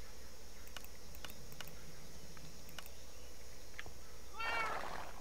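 A cat meows briefly near the end of a stretch from the Minecraft Dawncraft modpack, with steady low game ambience and scattered clicks running throughout.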